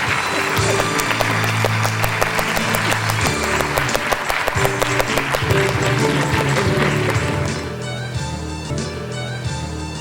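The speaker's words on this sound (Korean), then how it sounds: "큰 박수로 맞이해 주시기 바랍니다" Sustained loud applause from a large audience at a Korea Electric Power Corporation recruitment fair as guests enter, steady and dense for about eight seconds before easing slightly, with background music or voices underneath.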